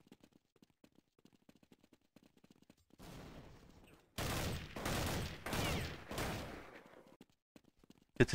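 Counter-Strike gunfire in a competitive match on play-cs.com: a few faint shots at first, then a loud burst of rapid fusillade bursts dominating the second half, close and continuous with brief gaps.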